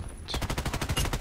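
Rapid automatic gunfire from a rifle in the shooter game Contract Wars, a steady burst of about a dozen sharp close shots after a brief quiet start.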